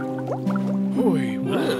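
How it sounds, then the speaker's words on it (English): A cartoon octopus monster bubbles down into the water with watery gurgles and rising, swooping bubble tones layered over a held musical drone in a short animated fairy-tale scene. "The octopus monster bubbled down into the water again."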